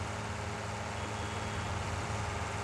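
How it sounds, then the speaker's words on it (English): Loud, steady tractor engine drone in the Farming Simulator 19 video game, a continuous low rumble with broadband noise filling the whole stretch, no talk over it. "you can barely hear the horn because the tractor's so bloody loud"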